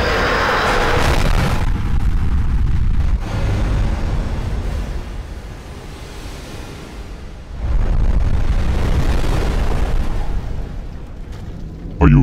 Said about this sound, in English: Incoming bombs.